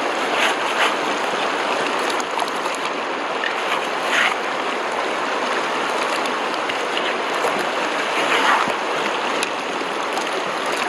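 Stream water rushes steadily through a gold sluice in New Zealand, a continuous broadband wash of flowing water with no speech, close and even throughout.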